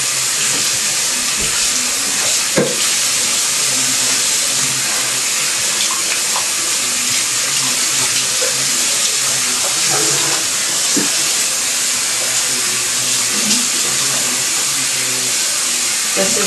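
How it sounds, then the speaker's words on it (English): Cold water pours steadily from a nearby tap over a cloth diaper being rinsed in a sink, a loud, continuous splashing rush with faint handling noises underneath. "what I'm doing with the cold water is just trying to get most of the pee itself rinsed out"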